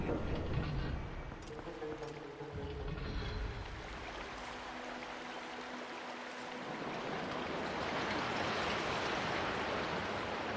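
Steady rushing water flows in The Legend of Zelda: Twilight Princess, a continuous broadband wash that swells slightly louder toward the end, with no voices.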